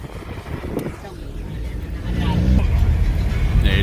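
A motor engine on a boat on an Ilocano river near Duplas, San Juan rumbles low and grows louder partway through, running steadily under people talking.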